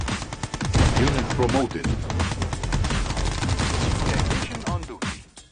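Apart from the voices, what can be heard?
gunfire in the video game Mental Omega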